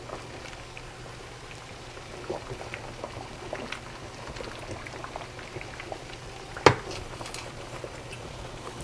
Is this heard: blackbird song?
no